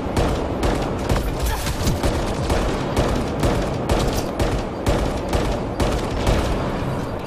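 Enemy gunfire in the video game Mass Effect Andromeda: dense, sustained volleys of shots crackling without pause, loud and close, with bursts layered over a constant barrage.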